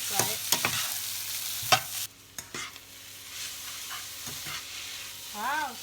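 Pad thai vegetables and bean sprouts stir-fried in a pan, with a steady sizzle and repeated sharp scraping and clanking strokes from the spatula, close and fairly loud, plus a brief dip in the sizzle midway.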